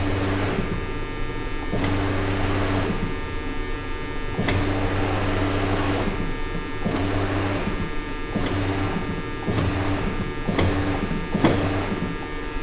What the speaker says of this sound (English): I'll let this pump run for a little bit